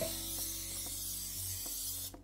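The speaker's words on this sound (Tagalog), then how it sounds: "gumagamit ako ng palm spray para wag pong manikit at madali nating matanggal ang kotsang." Palm oil cooking spray hisses steadily onto a steaming pan for kakanin, with a continuous airy spray and faint clicks of the nozzle underneath, ending abruptly near the close.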